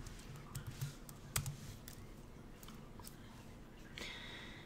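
Quiet, close-up computer keyboard typing sounds as irregular light key clicks, with soft sniffs and breaths in between.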